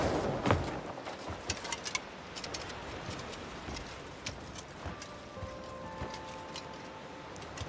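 Horse hooves clip-clop steadily in Crimson Desert, a quiet rhythmic trot heard through a dense outdoor wash of ambient game noise, with a few brief tonal notes near the end.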